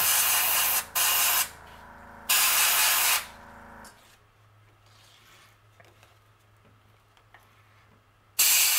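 An airbrush or spray gun applies paint colors over a white base on a fishing lure in three loud hissing bursts, followed by quieter low background hum and a final burst starting at the end, with no talking.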